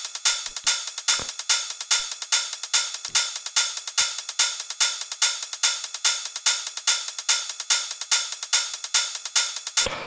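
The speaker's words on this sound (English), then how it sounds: "And then we have our hi-hats." Crisp electronic hi-hats from a 909 drum kit in a trance track, sidechained and high-pass filtered, ticking in a fast steady repeating pattern throughout with faint low kick hits early on and no voices.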